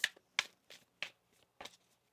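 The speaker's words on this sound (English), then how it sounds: "One more shuffle here." A deck of tarot cards is shuffled by hand in a series of five crisp riffling bursts, spaced about a third of a second apart, close and distinct over near silence.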